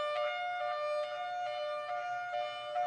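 A tornado siren sounds a steady high-low two-tone pattern that alternates in a regular rhythm, as used for fire alerts. The siren is loud and continuous, with no voices.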